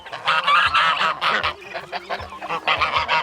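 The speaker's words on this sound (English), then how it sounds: "These are the geese right here." Free-range farm geese honk loudly and close at hand, a dense overlapping chorus of harsh calls in quick bursts with only brief pauses between them.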